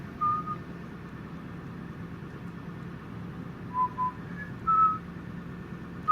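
A few brief whistled notes, spaced apart and fairly faint, over a low background hum.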